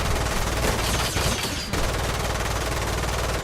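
Dense, sustained gunfire from the video game Lost Planet 2, a loud continuous automatic burst that runs nearly the whole time with a short dip partway through, and no talking.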